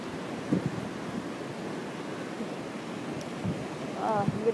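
Floodwater rushes along a street during a Texas flood, a continuous roaring wash with wind buffeting the microphone and a brief voice cutting in near the end.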